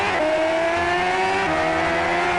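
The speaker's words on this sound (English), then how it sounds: "playing the car racing game" A car racing video game plays a sustained, loud engine drone that rises steadily in pitch as it revs, then shifts gear and climbs again.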